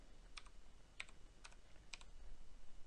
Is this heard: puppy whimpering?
no